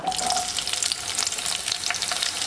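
Shallots dropped into hot cooking oil for a kovakkaya egg thoran, frying with a dense, crackling sizzle that stays loud and close throughout.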